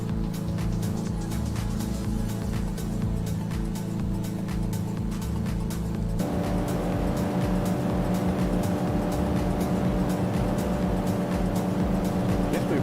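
A car engine holds high revs near red line on a long outback highway run, a steady loud droning hum with a noticeable pitch and tone shift partway through.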